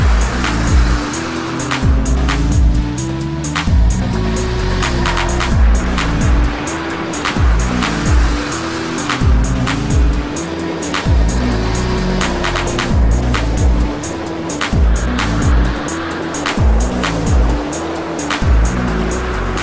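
Turbocharged Mazda MX-5 driving on Sydney streets, its engine loud and close as it rises and falls through repeated bursts of acceleration with boost over about twenty seconds.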